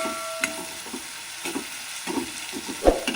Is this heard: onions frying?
yes